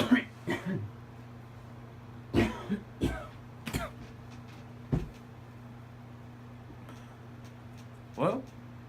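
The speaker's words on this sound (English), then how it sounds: "let me clear my throat real" A man clears his throat several times in short, rough bursts, with a few coughs scattered through a quiet room hum and no speech between them.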